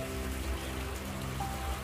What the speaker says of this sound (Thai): ฝนตกเนาะมันจะไหลลงมาจากต้นนะคะ